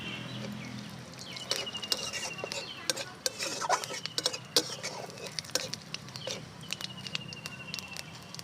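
Bay leaf and dried red chili tempering in hot oil in a pan, a steady soft sizzle broken by repeated clinks and scrapes of a spoon against the pan, close and moderately loud with no voice.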